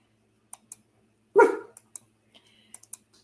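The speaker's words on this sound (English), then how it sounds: "Y'all hear this dog?" A dog gives one sharp, fairly close bark amid light clicking sounds, otherwise quiet with no talking.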